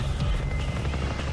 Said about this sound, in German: Der Helikopter, da haben sie sicher die anderen Krieger hingebracht.